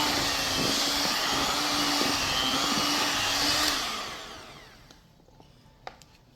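Electric hand mixer whirring steadily in a mixing bowl while making meat pie, a loud continuous motor drone with a faint hum underneath that winds down and stops after about four seconds, leaving quiet clicks.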